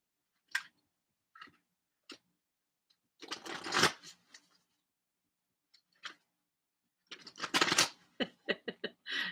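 A deck of chakra tarot cards is shuffled close by, with scattered single card snaps and two longer riffling bursts, the last trailing into quick separate taps, in an otherwise quiet room.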